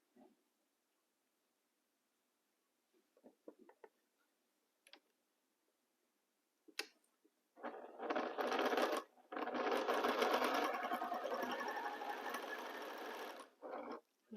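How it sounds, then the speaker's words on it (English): A sewing machine stitches fabric in a long, close, steady run of rapid mechanical chatter, broken by one brief pause, after several seconds of quiet with a few isolated clicks. "I align the fabrics and start sewing."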